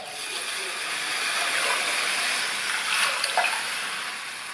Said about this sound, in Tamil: பருப்பு சேர்த்துட்டு அது கூட 2 கப் தண்ணி,